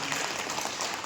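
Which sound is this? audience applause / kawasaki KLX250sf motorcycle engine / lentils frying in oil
audience applause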